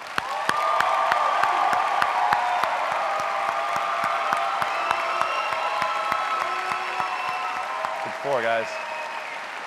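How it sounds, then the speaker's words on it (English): Freshman induction audience at a university ceremony claps steadily in a full, rhythmic round of applause, with a brief spoken phrase near the end as the clapping fades. "Big round of applause."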